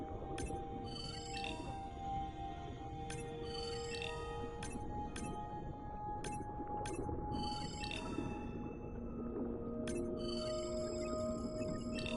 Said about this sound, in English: Looks like some young dolphins are having a play date.